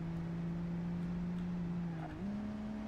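A car engine drones steadily in BeamNG.drive, a simulated vehicle running at a constant pitch that dips briefly and then settles slightly higher, with no talk.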